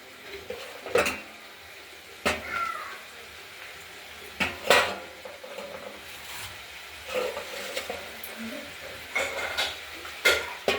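Spice paste frying in a pan for katla fish curry, with a low sizzle under repeated scrapes and clinks of a spoon stirring against the metal, in intermittent bursts.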